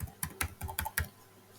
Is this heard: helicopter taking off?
no